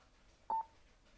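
A single short electronic beep sounds from a Cardo Scala Rider Freecom 4 motorcycle intercom as its intercom button is pressed: one clean mid-pitched tone lasting a fraction of a second in an otherwise quiet room.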